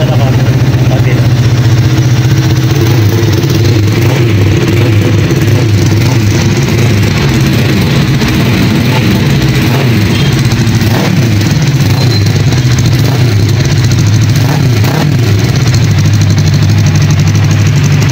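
A 400cc parallel-twin motorcycle on its stock exhaust runs steadily at idle with a deep, continuous engine drone and slight rises in pitch, loud and close throughout, with a voice speaking faintly over it.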